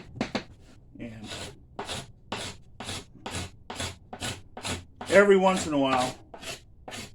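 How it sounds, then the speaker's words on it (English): Scraper shaving hickory self bow wood in a rhythmic series of short rasping strokes, close up, with someone talking briefly over the scraping. "I change directions on my scraping."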